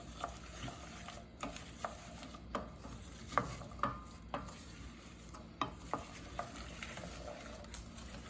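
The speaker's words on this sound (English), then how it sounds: "You're going to kind of cook and stir them like this for a minute or so." Apples cook in melted butter in a pan for apple turnovers while a utensil stirs them, giving a soft sizzle under a run of regular scraping and tapping strokes.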